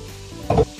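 Chicken gizzard in a pan for chicken igado, giving a brief burst of sizzling and stirring after a quiet low hum, loudest for a moment, then dropping back.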